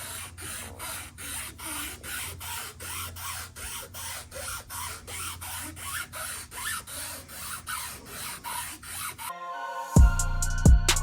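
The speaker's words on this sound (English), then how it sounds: "42 holes to drill out, but I think it's going to be worth it." Someone drills out rows of small holes in the plastic body of a 1/25 scale Ken Block Hoonicorn 1965 Mustang model, producing rhythmic scraping, rasping bursts in a steady beat, close up, before it cuts to a brief different sound at the end.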